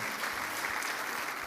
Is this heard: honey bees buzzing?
no